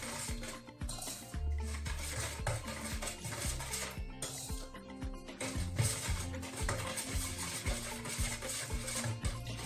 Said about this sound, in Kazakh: Жақсылап қасықтың көмегімен араластыратын боламыз.